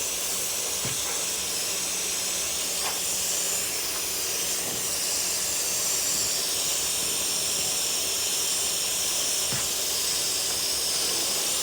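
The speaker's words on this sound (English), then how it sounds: "Of course, you can go in with an airbrush too." An airbrush sprays in a steady, continuous hiss of air that carries on without pause, with a few faint taps and knocks close by.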